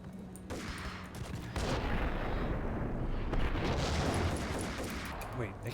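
Dense, sustained gunfire and heavy weapon blasts in the Max Payne video game, a loud continuous barrage with booming impacts throughout, with a brief voice at the start.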